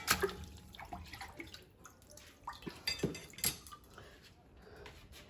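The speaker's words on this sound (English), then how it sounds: "And you can simply clean it off like that. Give that a rinse." Beeswax processing equipment being rinsed under water at a home beekeeping setup, with scattered drips, splashes and light clinks of metal and glass close by, soft and uneven, with no talking.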